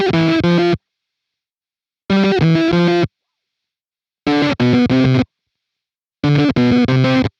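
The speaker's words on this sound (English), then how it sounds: "This creates a very tight, almost vintage console sounding tone" Melon Cube guitar pedal with its gate engaged, giving a tight, vintage console-like distorted guitar tone in four loud chopped bursts of chords, each cut off abruptly into dead silence.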